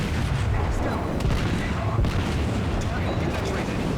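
A warship in a naval video game fires its 15-inch guns. Dense rumbling booms and blasts roll continuously, with a thicker burst near the middle, over a churning battle din.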